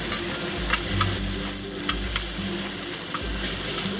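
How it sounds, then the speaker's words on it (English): Beef short rib steak sears in oil in a hot pan, a steady close sizzle with scattered crackles and pops and some stirring scrapes throughout. "And we'll put the rest of the steak in. And just a little bit more oil."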